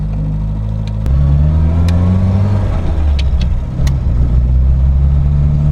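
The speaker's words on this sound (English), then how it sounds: "the engine feels like it pulls relatively well actually. There's a lot of stuttering" A Reliant Robin MK2 engine, not fully warmed and suffering timing and carburettor trouble, drones loudly and steadily while driving, its low hum rising in pitch as it pulls, with faint irregular stutters in the running.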